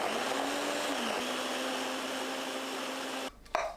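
A kitchen blender grinds pear, onion, green and red chili, garlic and ginger with water, a loud continuous whirring drone that runs steadily and then stops abruptly, followed by a brief clunk.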